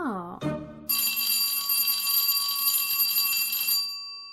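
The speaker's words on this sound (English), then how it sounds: "There's the bell for another class." A school class bell in an Our Miss Brooks radio play rings loudly and steadily for about three seconds, then cuts off, following a brief voice at the start.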